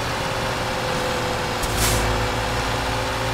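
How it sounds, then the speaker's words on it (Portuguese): Truck trailer and service air brakes in Euro Truck Simulator 2 with a Ford Cargo, a sharp hiss of air release over a steady loud engine and road drone, no talk. "Usando freio reboque e freio normal"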